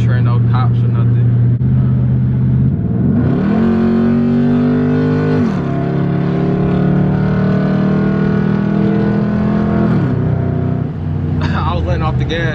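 Dodge Charger SRT8 pulling hard from 60 mph, loud steady engine roar heard from inside with the pitch climbing through gear shifts and dropping as the throttle eases near the end, continuous and close, with a little talk.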